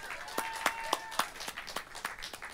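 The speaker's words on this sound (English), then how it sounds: "please give a huge round of applause" Sparse, faint handclaps from a small audience at a live music performance, individual claps spaced irregularly and distant, with a quiet tone ringing underneath and no talk.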